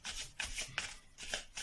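Tarot cards being shuffled by hand, a series of crisp riffling bursts in an uneven rhythm, close and fairly quiet with no voices.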